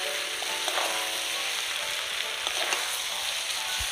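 Eggs are slowly sautéed in masala in a pan, producing a moderate, even sizzle with light stirring scrapes throughout and no speech.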